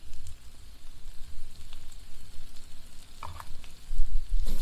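Flour is stirred into carrot, leek and onion frying in a pan, giving a steady close sizzle with soft scraping stirs throughout and no talking.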